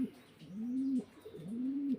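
Fancy pigeons coo softly in two drawn-out, low calls, close by at a pigeon farm, with a brief pause between them.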